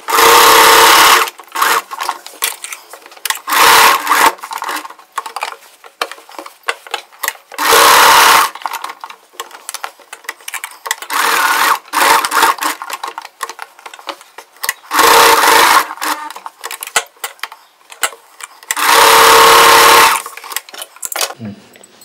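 A sewing machine stitching a layered chudithar neck design, running in repeated loud bursts of rapid stitching separated by quiet pauses and small handling clicks.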